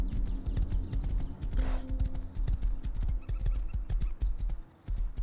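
Horse hooves clip-clopping in the Rust survival video game, a steady rhythmic trot of close, distinct hoofbeats with a brief whinny partway through.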